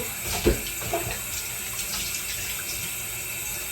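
Steady running water from a tap or hose while a thick-coated dog is soaked before shampooing, a continuous close hiss with a couple of brief splashes, no voices.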